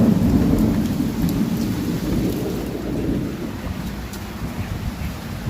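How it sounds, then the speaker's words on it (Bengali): Heavy rain pours down in a steady, dense hiss, with low rumbling thunder rolling underneath, loud and unbroken for the whole stretch. "এখানে বৃষ্টিটাও দেখতে পাচ্ছেন, খুব ভালো করে বৃষ্টি"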